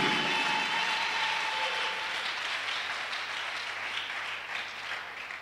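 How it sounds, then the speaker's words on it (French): A church congregation claps loudly and continuously as applause for the Lord during a bilingual worship service, a dense, steady wash of hands that fades slightly toward the end. "Give the Lord a big clap offering"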